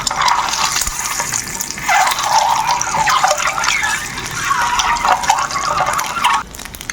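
Boiled eggs fry in hot oil seasoned with chili powder, giving a continuous crackling sizzle that swells and eases, close up, before dropping away at the end.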